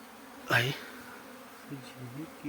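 A short burst of honeybee buzzing rises near the start, followed by quieter intermittent hums, fitting a few honeybees flying close by near a hive rather than a dense swarm.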